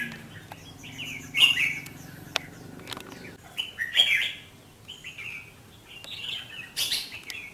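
A red-whiskered bulbul sings in short bright phrases, several bursts spaced a few seconds apart, close and clear over quiet background hum.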